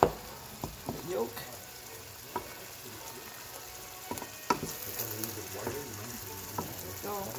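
Egg frying and sizzling in a pan for pad thai, with a steady close crackle broken by scraping stirs as the yolk is broken and scrambled; no talk over it.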